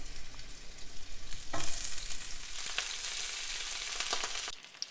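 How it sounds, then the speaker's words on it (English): Vegetables sizzling on a hot grill pan as they are placed for an orzo pasta salad, a continuous crackling sizzle close by, swelling louder midway with scattered pops and stirring scrapes before cutting off abruptly. "they should sizzle."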